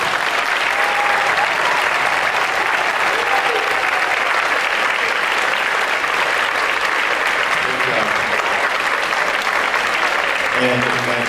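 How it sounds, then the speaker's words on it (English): Audience applause for the musicians at a high school chamber winds concert: dense, steady clapping from a large crowd, loud and sustained throughout. "I wanted to have another round of applause for everybody"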